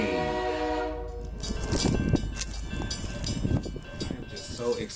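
A train sound effect plays loudly: a blaring horn blast, then rhythmic chugging and clattering of rolling wagons, with a voice talking over the rumble.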